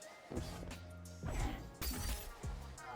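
Shatterskate move in a video game: a series of sharp smashing, shattering impacts, each heavy crash followed by brittle crackle, repeating roughly every second over a steady background.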